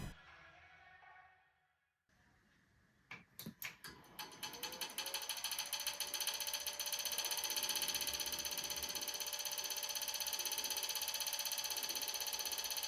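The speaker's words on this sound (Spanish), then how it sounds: "Además tiene un extraño sonido que parece como si un ventilador estuviera chocando con algo al girar" Computer power supply fan scraping against something as it spins, starting after a few clicks and rising into a loud, sustained rapid ratcheting rattle with a steady whine, close and alone.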